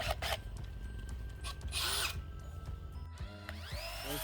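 A power drill whirs and bites into wood during construction of a chicken coop, its motor revving and dropping in short bursts with a few clicks, close and fairly loud.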